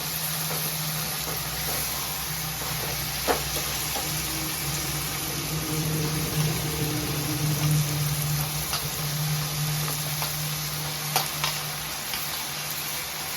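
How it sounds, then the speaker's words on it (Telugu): Broad beans and tomatoes simmer together in a pan on low heat, giving a soft, even sizzle with gentle bubbling and a faint low hum underneath, with occasional light clicks and no talking. "చిక్కుడుకాయలు కూడా బాగా సిమ్లో ఉడకాలండి"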